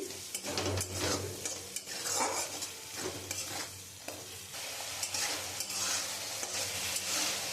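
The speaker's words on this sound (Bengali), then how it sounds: "আমি ভালো করে কষিয়ে নিয়েছি" Spice masala frying in oil for a teasel gourd and curd curry, stirred steadily: a continuous close sizzle with repeated spoon scrapes and clinks against the pan, no voices.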